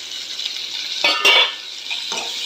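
A utensil stirs onions and tomatoes, with curry leaves, frying in a pan for brinjal kara kuzhambu: a soft sizzle broken by a few brief scraping strokes against the metal.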